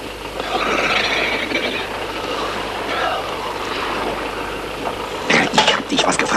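A low, steady boat engine rumble idles throughout with broad noisy hiss; toward the end, a few sharp clattering sounds cut through.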